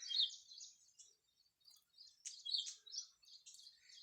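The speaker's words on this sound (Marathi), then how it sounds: "पक्ष्यांचा वगैरे तुम्हाला आवाज येत असेल किलबिलट पक्षी झाडावरती करतात" Birds chirping in trees in the morning, a series of faint high, bright tweets and trills in short bursts against an otherwise quiet background.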